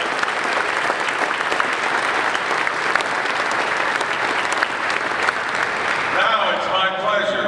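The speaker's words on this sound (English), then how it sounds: "Let's thank them with a large round of applause for their support of Detroit's kids" Loud, continuous applause fills a banquet hall during a Think Detroit PAL fundraising event, holding steady before a voice starts speaking over its tail at the end.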